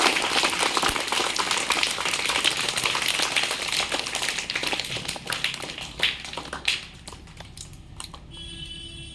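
Sustained applause from a crowd welcoming a prize-winning schoolchild at a results ceremony, dense clapping that thins into scattered individual claps before fading out.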